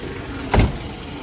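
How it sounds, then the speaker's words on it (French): A truck passes on a road near an old Nissan Patrol, a short swelling whoosh of passing engine and tyre noise lasting under a second over steady background hum. "Qu'est-ce qui fait ce bruit là? Un camion."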